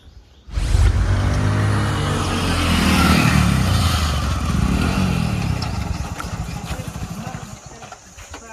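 A motorbike engine starts up loudly and runs close by in a rough, steady drone for several seconds before easing off, with no clear voices over it.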